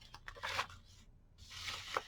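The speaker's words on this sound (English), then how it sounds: "old school, using the scissors" Scissors snipping and tearing through a paper gift bag being cut up for paper beads, two close bursts of crisp cutting and crinkling separated by a brief pause, with no talking.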